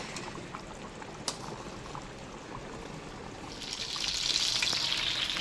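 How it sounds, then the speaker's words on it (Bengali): Topse fish fry in hot oil in a pan, a soft, steady bubbling sizzle heard from close by that swells into a brighter, hissing crackle toward the end. "আর এখানে এখন হচ্ছে গরম গরম তোপসে ফ্রাই"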